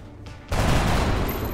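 A burst of gunfire in the alien-combat strategy game XCOM Long War: a quiet lead-in, then a loud, broad blast at about half a second that sustains as a dense rumbling volley to the end.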